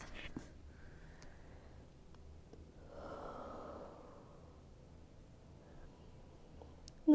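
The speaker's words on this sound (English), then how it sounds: "Let's find a full breath." A single long, deep breath taken in child's pose during a beginner yoga session, soft and airy, rising and fading in the middle of an otherwise quiet room.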